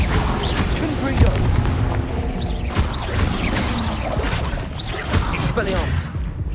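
Confringo spell blasts burst again and again during a Hogwarts Legacy video game duel, loud booms and whooshing impacts mixed with combat noise and spoken spell incantations.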